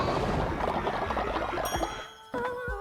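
Slot machine chimes ring out in the video game Cult of the Lamb, with bright high tones stacking and sustaining over a busy bed of game music and effects, then a second clear ding sounding near the end.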